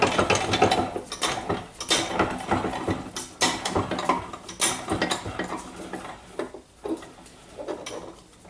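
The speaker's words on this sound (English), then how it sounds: "I will use the vise to make sure that it's in" A part is pressed into a Makita DHR202 rotary hammer using a vise, giving close metallic clicks, ratcheting and gear clatter in irregular bursts with no voice.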